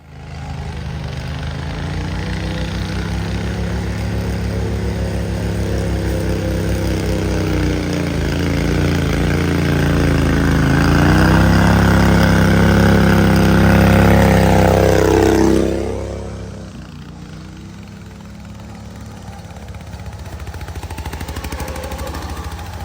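A Wheel Horse mud mower fitted with an opposed-twin engine labors up a trail at full throttle, giving a steady, loud, strained drone that bogs lower before easing off near the end.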